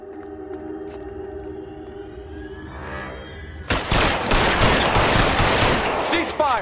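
Gunfire erupts in the video game L.A. Noire Remastered: after a few seconds of low droning, wavering tones, a loud, dense barrage of shots bursts in and keeps going steadily to the end.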